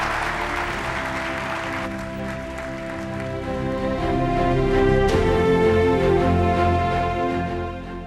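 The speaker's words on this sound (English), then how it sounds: "let's give our challengers a big" Applause from an audience, a sustained wash of clapping that swells toward the middle and then eases, with musical tones underneath.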